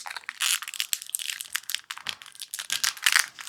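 Plastic wrap comes off a Pokémon Charizard ex Premium card box, close and crisp, in a fast irregular series of crackles and crinkles lasting a few seconds.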